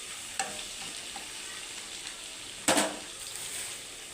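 Ginger and garlic fry in a pan for kichidi with a soft, steady sizzle, a few faint ticks, and one sharp clatter of a utensil near the end.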